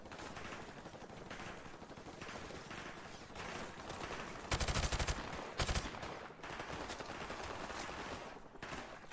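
Rapid automatic gunfire in Call of Duty 4: Modern Warfare Remastered, sustained rattling shots and two louder, closer bursts near the middle, set against constant battlefield din, with no voices.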